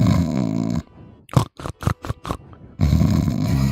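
A voice imitates a character named Drath snoring, giving several short, rough, snorting bursts in a row, close and fairly loud, set between stretches of louder talking.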